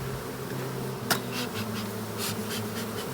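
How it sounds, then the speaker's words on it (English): A swarm of honey bees drones around a box in August, a dense continuous buzz close by, with a brief sharp knock partway through. "In the box, bees. Come on, get in the box."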